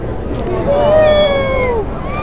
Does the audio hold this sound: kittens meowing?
yes